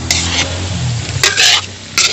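Banana cue fries in hot oil with brown sugar in a pan. A close, steady sizzle fills the sound, broken by a few short, bright scraping bursts as the pieces are stirred, with no talking.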